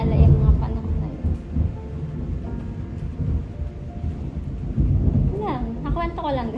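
A thunderstorm with rain gives a rumbling, steady wash of low noise with gusty swells, while voices talk over it and a higher sliding sound rises near the end.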